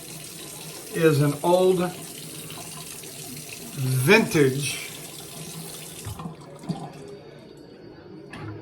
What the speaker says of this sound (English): What am I running the water for here?